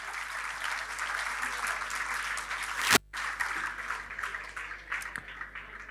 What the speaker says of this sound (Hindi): मुझे लगता है इसके लिए भी एक बहुत जोरदार ताली बजनी चाहिए।